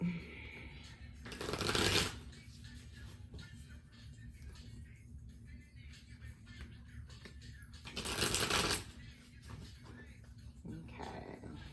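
A deck of playing cards is shuffled in two brief riffling bursts several seconds apart, close and crisp over a quiet room.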